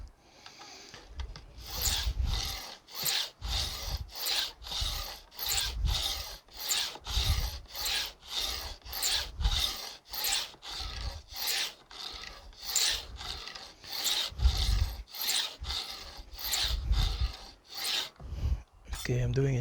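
A file rasps back and forth across the ends of guitar fret wire to bevel them during a refret, producing steady, regular strokes at close range, about two per second, continuous with no talking.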